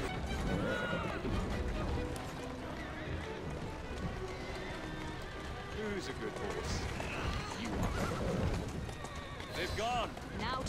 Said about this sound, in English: Oh man, carriage driving time.